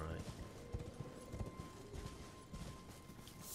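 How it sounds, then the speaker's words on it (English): Torrent, the horse in Elden Ring, gallops in quick clip-clop hoofbeats under game music and effects, quiet and steady for a few seconds. "Can I fight on my horse?"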